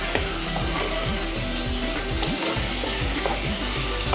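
Fish frying in a pan with Kashmiri red chilli powder, a steady close sizzle and crackle with soft stirring scrapes throughout and no talk.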